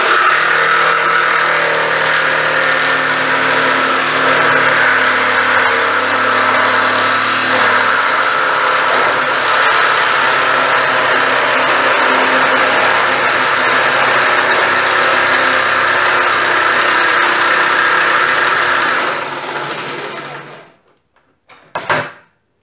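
A GINOUR jigsaw switched on and cutting, a loud, steady motor buzz that holds for about twenty seconds and then winds down and stops, followed by a couple of brief knocks.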